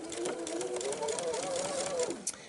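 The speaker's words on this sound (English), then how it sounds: "put my unit right under that hovered foot and go ahead and do my stitching" A sewing machine quietly stitches a bulky quilt V block unit under the presser foot, a continuous soft motor whir with a rising and falling pitch that winds down near the end.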